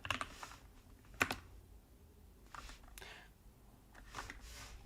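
Quiet clicking of a computer keyboard in short bursts, key presses tapping in small clusters with pauses between them, close and faint with no talking.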